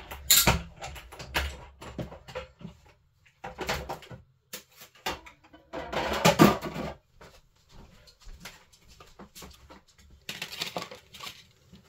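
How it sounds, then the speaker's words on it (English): A die-cutting machine cranks a card through, giving repeated creaking, grinding bursts with short pauses between them, close and fairly loud. "I'll just run that through the die machine."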